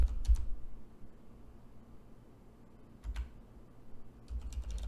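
Someone typing on a computer keyboard, a few quick clusters of soft key clicks separated by quiet gaps, no voices.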